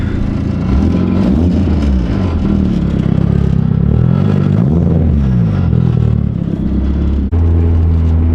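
A VW MK4 GTI engine idles while warming up, a loud, close, continuous rumble with slowly wavering pitch and a brief dip near the end.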